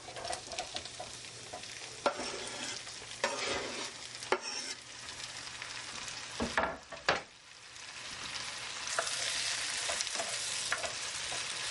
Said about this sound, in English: let these cook until the tomatoes break down a little bit and most of the moisture is cooked off